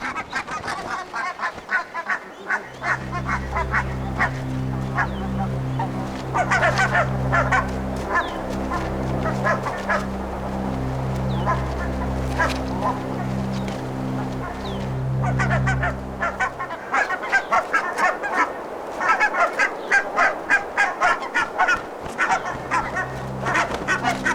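Several geese honk repeatedly and loudly, overlapping calls in a noisy, continuous chorus with brief pauses.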